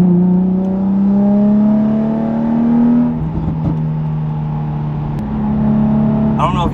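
A tuned Nissan 350Z engine hums and revs under steady load in a third gear pull, with a few sharp exhaust pops and crackles near the end as the throttle lifts. A voice talks faintly.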